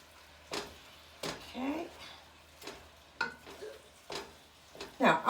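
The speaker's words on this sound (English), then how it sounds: "I'm just going to let this sit and sizzle away for a bit" Onions and hot pepper sauté in a pan for a mild chilli, fat and liquid sizzling quietly while a utensil stirs and scrapes in repeated strokes, with a voice talking in between.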